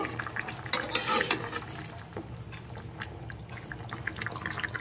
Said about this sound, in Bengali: এবার 2-3 মিনিট মতো ফুটিয়ে নিচ্ছি